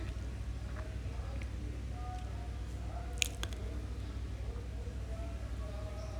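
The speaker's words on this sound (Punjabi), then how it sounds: "ਉਹਨਾਂ ਨੂੰ ਆਪਾਂ ਇਸ ਤਰ੍ਹਾਂ ਹੱਥਾਂ ਨਾਲ ਹੀ ਮੈਸ਼ ਕਰਕੇ ਪਾਵਾਂਗੇ" Boiled potatoes are mashed by hand into a curry in an iron kadhai, giving soft, quiet wet squishes and a few small sticky clicks over a low steady hum.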